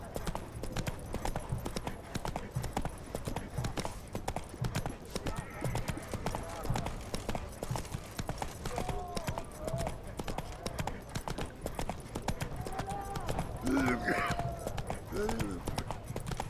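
Galloping horse hooves from The Witcher 3 video game, a steady rapid clip-clop running throughout under game music, with people talking in the background and a brief whinny near the end.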